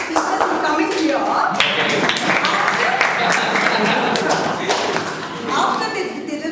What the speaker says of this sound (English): huge round of applause for the speakers who are coming here